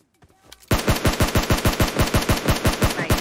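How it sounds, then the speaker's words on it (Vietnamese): Sustained automatic fire from a Beryl rifle in the PUBG Mobile game, a loud, close, rapid burst of about twenty evenly spaced shots after a few faint clicks. "Trận này mình sẽ bắn cây berry đi."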